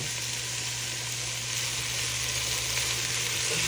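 Okra, carrots and pumpkin sizzle and fry in a hot pot, a steady, close, even crackling hiss that holds for the whole stretch with no talking.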